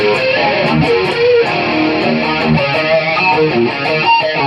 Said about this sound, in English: Foot switch number 2 will turn on the chorus.